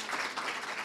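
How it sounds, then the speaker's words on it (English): Faint, steady applause from an audience at a public library educators showcase, a soft continuous patter of many hands with no talk over it. "Another round of applause for the kids."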